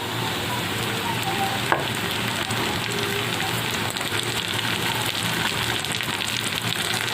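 Small pieces of chopped okra frying with onions in hot oil make a dense, continuous crackling sizzle at close range, with one sharp clink early on.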